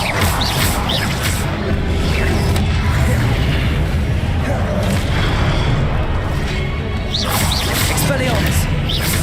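Expelliarmus spell cast during a Hogwarts Legacy duel: repeated booms and swooshing bursts sit in a dense, continuous wash of combat noise, with voices heard throughout.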